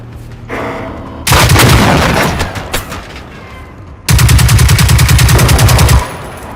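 Rapid automatic gunfire in the video game Generation Zero, two loud sustained bursts of closely spaced shots, the second steady and even, with quieter background game sounds between them.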